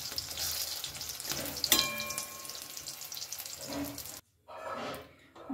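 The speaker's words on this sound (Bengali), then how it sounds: "বেগুনগুলো উল্টে পাল্টে বেশ লাল করে ভেজে নিয়েছি" Eggplant pieces frying in hot oil in a Bengali home kitchen, a continuous crackling sizzle with occasional stirring clinks and a brief pause near the end.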